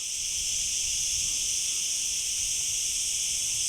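A summer cicada chorus buzzes in a dense, unbroken high drone, loud and steady throughout with no pauses, alone without any voices.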